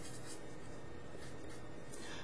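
Marker writing on a board, heard as several short scratchy strokes over a constant background hiss, with a few brief squeaky bursts spaced through the passage.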